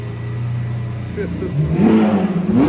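A loud car at a car meet, with a low engine drone giving way to a rising rev toward the end, while people chatter and laugh over it.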